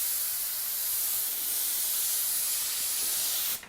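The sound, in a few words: airbrush spray gun spraying air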